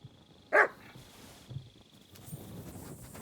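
A dog in the video game Kingdom Come Deliverance 2 gives a single sharp, loud bark near the start, followed by quiet footsteps and faint ambient rustle.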